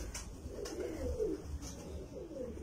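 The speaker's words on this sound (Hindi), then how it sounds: "बड़े नया कबूतर है माशाल्लाह" A male pigeon of an old breed, kept on a rooftop, coos softly in low, rolling repeated phrases, faint and close, with no other sounds.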